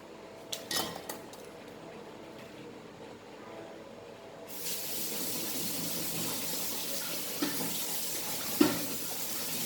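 Brussels sprouts being washed under running tap water, a steady broadband rush of flowing water starting partway through, with a few soft knocks and clatters from handling the sprouts.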